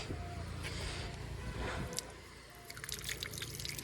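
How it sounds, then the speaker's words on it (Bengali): Water runs and trickles from a tap while hands are rinsed beneath it, a soft, fairly quiet splashing stream with a few brief drips and faint background noise. "হাতটা ধুয়ে নি"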